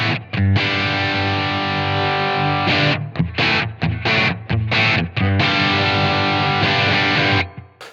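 Distorted electric guitar played through a Blackstar Amped 1 on its warm 2x12 cab preset, sustained loud chords broken by short choppy stabs and brief gaps, ending with a fade.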